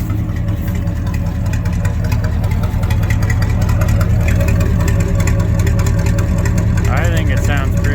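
A cold 1972 International Loadstar dump truck with a 392 V8 idles with a steady, even low rumble that runs without a break. Someone talks over the engine throughout.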